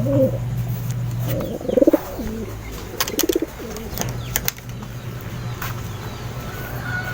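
Soft, low cooing of pigeons or doves repeats steadily throughout, with a few brief chirps and sharp clicks scattered over the top.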